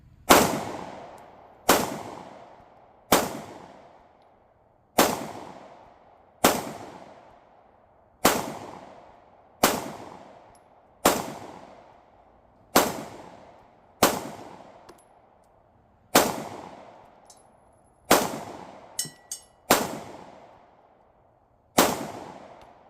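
Suppressed shots from a Ruger Charger 10/22 fire one at a time at a slow, even pace, around fifteen sharp cracks, each ringing off briefly. One pair lands close together near the end, and no one speaks between them.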